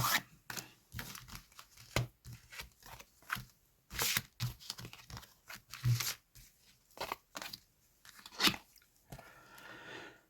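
Cards being dealt and laid out one by one for a reading, a series of sharp, close slaps and crisp flicks in an irregular rhythm with brief pauses between them, quiet overall and with no voices.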